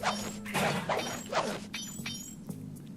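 Breakable objects smashed in the game Sly 2, a run of sharp cracking hits and crashes in quick succession over a steady background hum.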